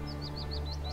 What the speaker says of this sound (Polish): słychać śpiew ptaków